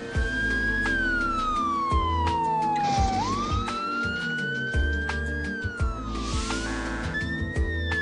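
A police car siren wails and sweeps up and down in pitch while approaching a busy intersection, loud and continuous over the rumble of surrounding traffic engines.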